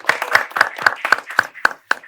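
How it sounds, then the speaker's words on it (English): A small audience claps in a steady run of about eight distinct, close hand claps over roughly two seconds, with no voices over it. "Clap it up for Tahlia."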